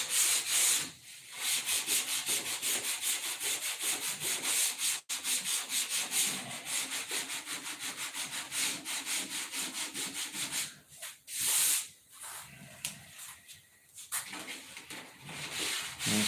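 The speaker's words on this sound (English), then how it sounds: "You fire up your blast cabinet and blast it off." Blast cabinet stripping a quarter-inch-thick, tough coating, a steady loud hiss and rubbing roar that runs nearly continuously, with a few brief pauses near the end.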